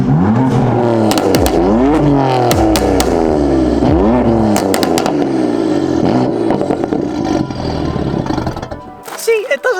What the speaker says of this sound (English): But once it's warm, it sounds pretty good.